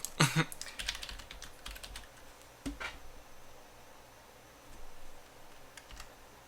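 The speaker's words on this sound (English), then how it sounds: "Oh, I wish my computer would type." Computer keyboard typing, heard as quiet clusters of crisp key clicks in short uneven bursts separated by pauses, close to the microphone with no talking over it.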